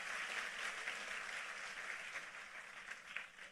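Congregation applause during a church sermon, a continuous spread of clapping heard from a distance and fairly faint, holding steady for a few seconds.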